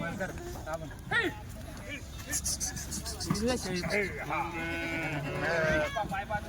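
Kathewadi sheep and goats crowded in a truck bleat repeatedly, overlapping calls of several animals close by, over a low engine rumble.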